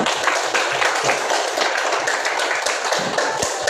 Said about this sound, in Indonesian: Mari kita kasih aplaus untuk kita semua